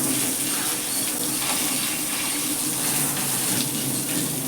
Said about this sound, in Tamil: இன்னைக்கு வெளியே வண்டி கழுவ ஆரம்பிச்சிட்டாரு.